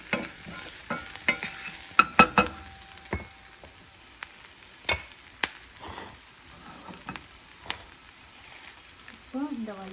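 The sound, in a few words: onions sautéing in a pan for chutney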